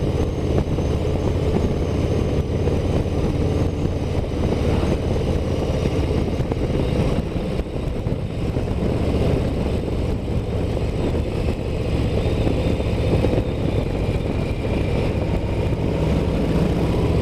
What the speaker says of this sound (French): Ah, il est agréable ce moteur 117.